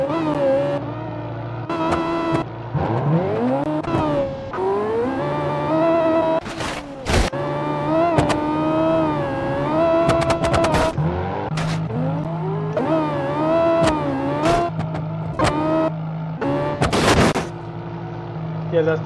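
A Rotar C3X car engine drives in the BeamNG driving simulator, loud and continuous with rising and falling rev sweeps and gear changes. Sharp bangs and pops break in throughout, and a voice occasionally runs underneath.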